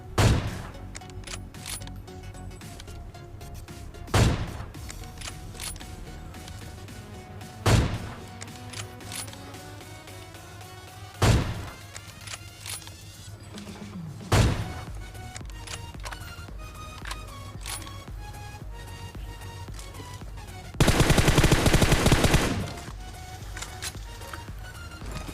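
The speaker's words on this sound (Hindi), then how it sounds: "और यहाँ पर होती है फायरिंग।" Gunfire in the battle game PUBG near a barn house facing Pochinki: several sharp, loud shots at irregular intervals, ending in a dense burst of rapid fire over a steady game background.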